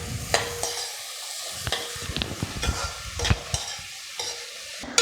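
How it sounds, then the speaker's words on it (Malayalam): Onion, shallots, garlic and green chili sautéing in a pan for a Kerala drumstick-leaf egg thoran, with steady close sizzling broken by repeated spoon scrapes and stirring clatters, no voices. "പച്ചമുളക് എല്ലാം കൂടെ ചേർത്ത് നന്നായിട്ടൊന്ന് വഴറ്റാം."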